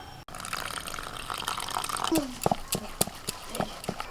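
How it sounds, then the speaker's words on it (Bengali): A small amount of water is poured into a bowl of ground spices, black pepper and Kashmiri chilli powder, giving soft trickling and splashing under nearby talk, with a few light clinks. "এবার অল্প জল দিয়ে আমি এটাকে একটুখানি ফেটিয়ে নেব"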